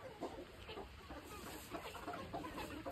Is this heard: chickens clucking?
yes